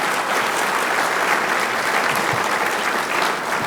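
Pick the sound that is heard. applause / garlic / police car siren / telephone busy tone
applause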